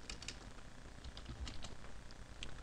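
Quiet keystrokes tap on a computer keyboard as a command is entered, a soft irregular patter of clicks alone.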